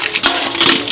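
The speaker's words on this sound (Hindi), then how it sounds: "लाओ हम पानी चला दै छी" Tap water runs for washing dishes in a Maithili comedy scene, a steady close splashing wash of sound with brief louder gushes, no talk.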